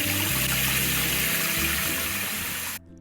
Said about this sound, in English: Now turn the water valve knob to the left or counterclockwise to turn on the water supply.